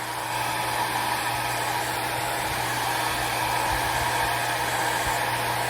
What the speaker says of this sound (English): And we blow drying.